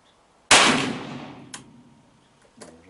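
A revolver firing .38 wadcutters from a Ransom rest gives one loud, sharp shot that rings and decays over about a second, followed by two fainter knocks and clanks.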